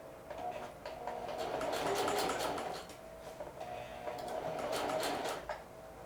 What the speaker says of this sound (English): We'll go forward and back tack and see what we got.